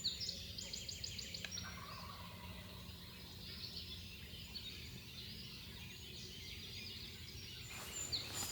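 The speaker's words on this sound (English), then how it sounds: "Got one gobbler down here." A wild eastern turkey gobbler in Maine gobbles at a distance, faint rattling calls at the start and again near the end over a quiet outdoor background.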